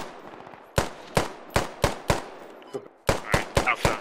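Bursts of machine-gun fire in the military shooter Squad, laid down as slow suppressive fire: short spaced volleys of sharp, loud reports with brief pauses between, ringing out alone.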